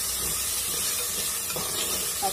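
Tomatoes frying in a pan for a village-style egg biryani, a steady soft hiss and sizzle with faint scattered crackles, close and low in level, no talking.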